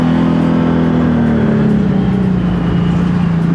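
Can-Am Maverick Turbo side-by-side engine droning steadily and loudly while driving, a sustained low hum that sags slightly in pitch as it cruises.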